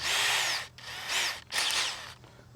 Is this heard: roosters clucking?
no